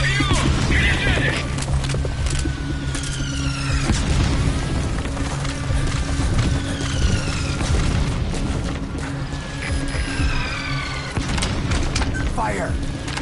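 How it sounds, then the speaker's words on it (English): Mortar barrage in Metal Gear Solid V, deep booms and crashing impacts rolling under radio chatter from game soldiers, with whistling projectiles sweeping downward overhead. "Открыть подавляющий минометный огонь по противнику."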